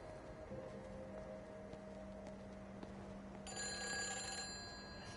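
In the video game Everybody's Gone To The Rapture, a telephone rings faintly in a quiet setting over low background hum, its tone swelling slightly louder for the last couple of seconds.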